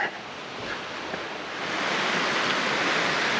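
Steady, rushing wash of a creek's flowing water along a hiking trail, broadband and continuous, swelling slightly louder midway and staying even to the end with no voices.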